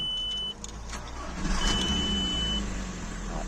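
A VW Golf 4 TDI diesel engine running after an injector replacement, its idle rising as it revs up and then holding a steady, moderately loud drone, with a faint high whine and a few light clicks over it.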